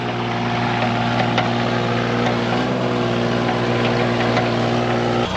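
A Cat 302.5 mini excavator's engine runs steadily and loud up close, a constant droning hum with a strong low tone that holds without a break.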